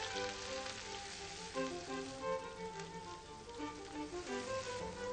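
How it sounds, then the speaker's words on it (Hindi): Onions fry on high heat in a tempering of fennel, fenugreek and nigella seeds, giving a soft, continuous sizzle heard faintly beneath steady background music in a television cooking show kitchen. "इसलिए तेज आंच पर प्याज को भूनें"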